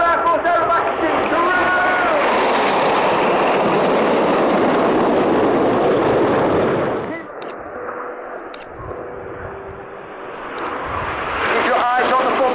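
Royal Air Force aerobatic display jets roar past at an air tattoo of military aircraft, a loud sustained broadband rush that fades around midway, then swells back as the formation returns, with crowd or announcer voices faintly underneath.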